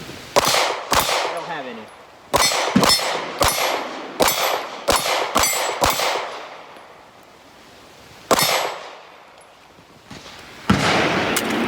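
Glock 45 pistol shots fired outdoors in a series of sharp cracks, several in quick pairs and bursts with pauses between, each followed by the ringing clang of hit steel targets; someone speaks briefly.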